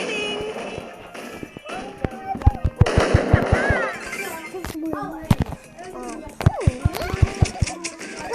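Rapid bursts of gunfire in a video game crackle in quick, uneven volleys under a busy mix of game effects, with players talking over the action.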